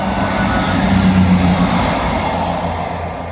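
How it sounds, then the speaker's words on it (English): A train rumbles past along a seawall, a steady, loud, close rolling roar with a low engine drone that holds throughout and eases slightly at the end. "First proper train."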